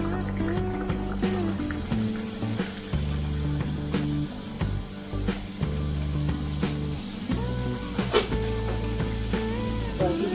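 Bhatura frying in hot oil, with a constant bubbling sizzle and crackle throughout, under a steady low hum and occasional sharp spatters and clinks.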